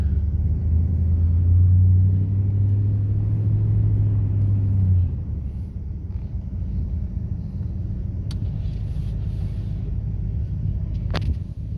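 A red 2009 Ram 2500 pickup with a 5.7L engine cruising on a highway, a low steady rumble with a strong droning hum that drops away midway, leaving road noise and a few faint clicks.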